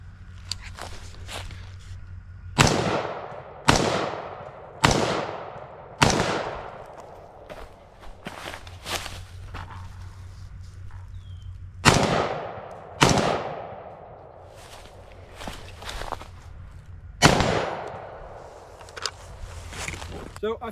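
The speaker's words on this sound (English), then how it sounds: "We'll be doing 6 rounds from 75 through some pretty thick cover here in the woods." A series of rifle shots fired from 75 through thick woods cover, sharp loud cracks spaced a second or more apart, each followed by a brief echoing decay, in a quiet outdoor setting.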